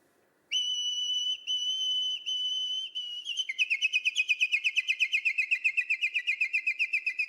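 A person whistles an imitation of nightingale song: long steady piping notes, then a fast, rapid trill of repeated chirps, alone and close.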